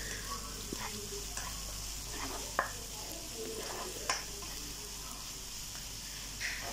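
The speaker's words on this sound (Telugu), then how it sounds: "అది పచ్చివాసన పోయేంత వరకు కొంచెం వేయించుకోవాలన్నమాట." Ginger garlic paste frying with onions in a pan gives a steady close sizzle, with a few sharp clicks of a spoon stirring against the pan.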